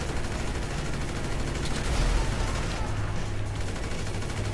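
Rapid bursts of video game gunfire in a shooter match with an airplane nearby, dense and steady under a rumbling background, with faint voices.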